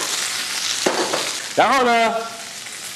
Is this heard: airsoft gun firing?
no